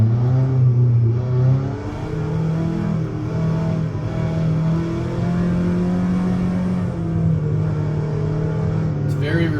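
Race car engine in the sim racing game Assetto Corsa EVO, droning and revving steadily with shifting pitch over a steady rumble, loud and continuous throughout with no talk.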